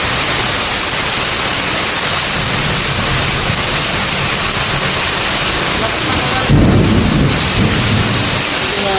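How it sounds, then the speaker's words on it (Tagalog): Heavy rain pours down in a loud, dense, unbroken hiss, with deep thunder rumbling underneath and a stronger low roll of thunder near the end. "Umuulan."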